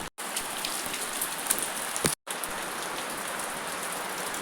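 Steady rain falls on surfaces outdoors, a dense continuous hiss with scattered drop ticks, close and even, briefly cut out twice with no voices.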